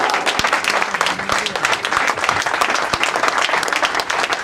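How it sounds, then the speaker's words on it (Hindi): Audience applause welcomes a poet to the stage at an Indo-Pak mushaira: a thick, continuous roar of many hands clapping, with a few sharper nearby claps standing out. "भरपूर तालियों में इनका इस्तकबाल कीजिए"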